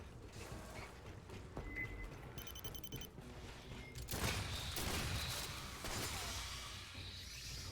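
Rapid bursts of gunfire and mechanical clatter from the sci-fi shooter game Aliens: Fireteam Elite, a dense, continuous barrage that swells in the second half, fairly quiet overall with no talk.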